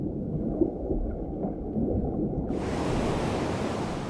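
Ocean waves wash over the shoreline where marine iguanas swim and bask on black lava rocks. A continuous rushing surf roar starts muffled, then opens into a brighter, fuller wash.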